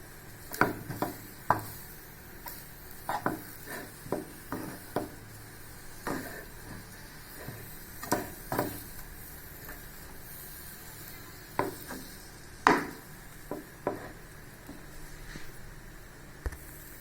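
Sweet mixture stirred in a pan, with irregular scraping and tapping strokes of a spoon against the metal, fairly close and quiet, with no talk.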